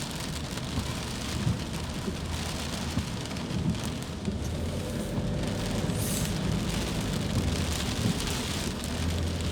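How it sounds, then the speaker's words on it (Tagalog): Gusty, intermittent rain falls steadily on surfaces in Manila, a dense hiss of drops with low rumbling underneath, heard alone without voices. "Yun, ang ulan dito guys ay pabugso-bugso."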